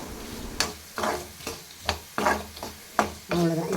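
Garlic sautéing in a pan for a South Indian garlic chutney, with a spatula stirring in repeated scraping strokes over a steady sizzle, close and moderately loud, no talking.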